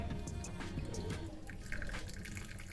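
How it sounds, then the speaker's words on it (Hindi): Hot water poured from a thermos into tea premix for karak chai makes a steady trickling, splashing stream. It is close and fairly quiet, with no talking. "तो आपने ये पानी जो है गर्म पानी आपने इसमें डालकर"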